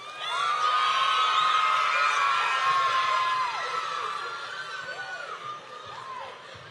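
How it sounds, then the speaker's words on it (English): An audience at a spring concert cheers, whoops and shouts for a performer, a loud burst of voices with excited high calls that slowly eases toward the end. "Round of applause for Bella."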